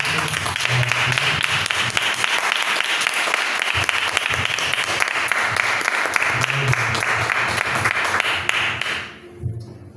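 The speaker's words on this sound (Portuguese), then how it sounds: "Aplauda Jesus, mas assim." A church congregation at a Sunday service applauds loudly and continuously, a dense roar of clapping with occasional thumps underneath that carries for nearly ten seconds before quickly dropping away.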